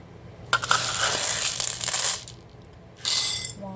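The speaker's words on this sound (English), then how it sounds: "going to add 1 cup of dry beans" Dry beans poured through a funnel into a half-cup measuring cup, giving a dense rattling hiss in two bursts, a longer pour and then a shorter one, with no talk.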